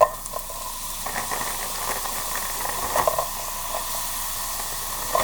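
Shrimp goes into a hot pan of onions for shrimp and grits, raising a continuous hissing sizzle with a few louder pops and stirring scrapes, close by and with no voices.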